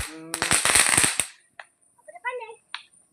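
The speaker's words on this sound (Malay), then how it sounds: "Bakar biasa bang, bakar bunga api je bang." Fireworks lit and set off outdoors during a Hari Raya Aidilfitri celebration: a rapid loud cluster of crackling pops in the first second, then scattered fainter fizzes and small bursts, with voices around.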